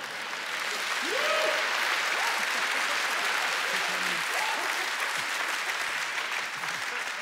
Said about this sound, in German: Das war jetzt ein bisschen ein Barbara Karlich-Applaus